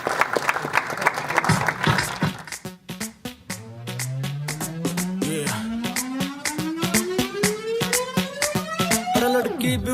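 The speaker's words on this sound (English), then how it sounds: "Let's give them a huge round of applause." Applause from a wedding reception crowd blends with loud music as a Hindi song begins, the clapping fading under a steady beat and rising tones.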